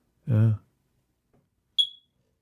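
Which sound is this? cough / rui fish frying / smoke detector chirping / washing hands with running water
smoke detector chirping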